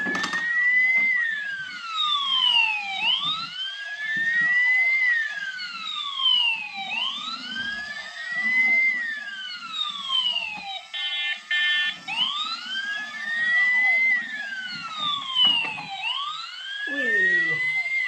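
Toy fire truck siren wailing in repeated rising and falling electronic sweeps, loud and close, with brief beeps partway through and faint talk underneath.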